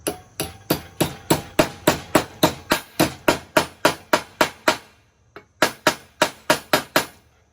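Steady, evenly spaced metal-on-metal hammer blows ring out as parts for a banjo steering wheel on a 1932 Ford are bent in a vise, about twenty sharp strikes with one brief pause before the rhythm resumes.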